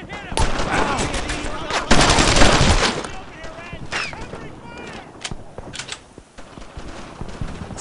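Gunfire in Brothers in Arms, a World War II battle at St. Martin in Normandy, 1944: rapid machine-gun bursts and rifle shots crack loudly in quick succession, with a dense volley early on and voices shouting between shots.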